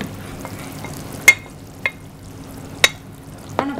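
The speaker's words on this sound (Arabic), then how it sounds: "انا هبتدي انزل بالفاصوليا هنا اهو" Green beans simmering with meat and tomatoes in a pot are stirred, giving a few sharp spoon clinks and scrapes over a low, steady bubbling. No one talks.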